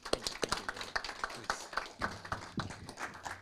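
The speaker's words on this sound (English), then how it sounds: "we should give him a big applause" Audience applause at a city council meeting: scattered, fairly quick handclaps from a modest crowd, moderately loud and irregular for a few seconds.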